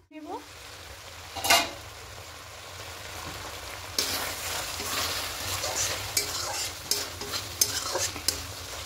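Egg and poppy-seed gravy bubbling in a pan on a gas stove, a soft steady simmer that grows busier halfway through, with crackling bursts and a few spoon-like clinks.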